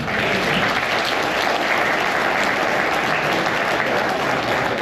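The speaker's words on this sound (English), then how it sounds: "How about another round of applause?" Conference audience in a meeting room giving another round of applause, dense and steady clapping from many hands that sustains at full level throughout.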